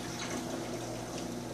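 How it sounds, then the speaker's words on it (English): An aquarium pump restarts after a feed-mode shutdown, giving a steady low hum with water rushing and filling continuously over it, close and moderately quiet, with no voices. "You can actually hear the pump until"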